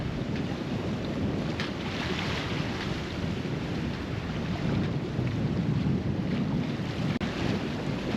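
A sailboat running under sail off a rocky coast, with steady loud wind rushing over the microphone and broadband water and hull noise continuing unbroken throughout, no voices.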